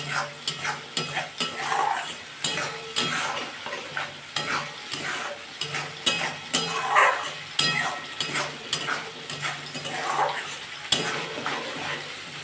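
Green chili paste with cumin sautéing in a pan for a spinach fish curry, with steady rhythmic stirring and scraping strokes over a low continuous sizzle, close and moderately loud, with no voices.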